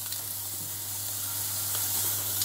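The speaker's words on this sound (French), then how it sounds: "On va poser les Saint-Jacques dans la poêle, ça doit... Vous voyez?" Scallops go into a pan of melted butter, a steady close sizzle and hiss running throughout over a low constant hum, with no talking.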